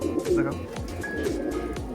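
Pigeons coo in a quick series of low, repeated calls about every quarter second, close by, while a person talks over them.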